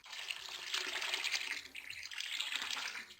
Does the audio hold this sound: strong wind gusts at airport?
no